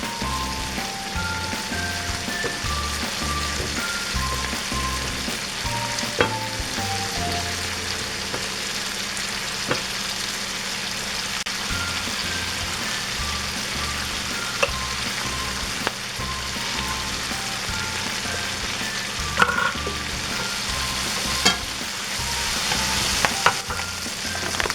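Chopped onion sizzling and frying in a pan during home cooking of garden produce, a steady close crackle with intermittent stirring scrapes and clinks, no one talking.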